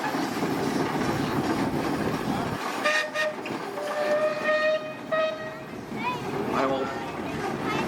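A steam engine runs at the Oregon steam-up show, a continuous loud rumble with whistle-like tonal tones rising over it midway, and voices talking nearby.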